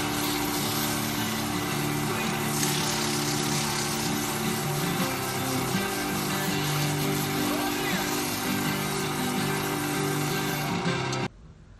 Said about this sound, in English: So we're going to go ahead and sand this